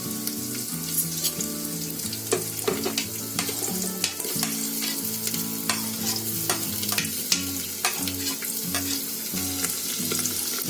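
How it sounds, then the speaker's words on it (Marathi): Tomato and cashews fry in hot ghee for masoor pulao, a close, loud sizzle broken by frequent scraping stirs of a spoon against the pan, with no talking. "आता काजू टाकते आणि चांगलं ढवळून घेते"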